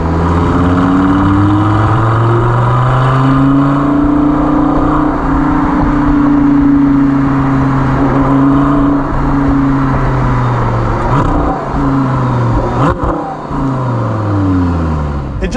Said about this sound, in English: You know, that V10 right behind you.